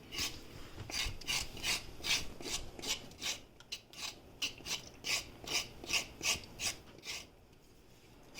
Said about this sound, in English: instead of using a vegetable peel, I'm going to use the knife and I'm going to do this